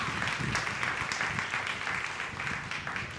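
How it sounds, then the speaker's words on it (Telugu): A church congregation at a Telugu Baptist Sunday service claps together in a steady, sustained wash of applause, moderately loud and continuous throughout. "గట్టి చప్పట్లు కొట్టు."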